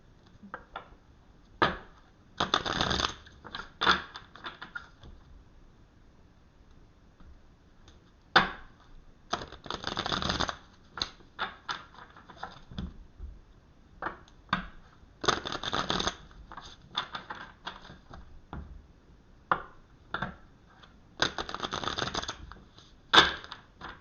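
Tarot cards being shuffled up close in repeated bursts of riffling and flicking, with short quiet pauses between rounds.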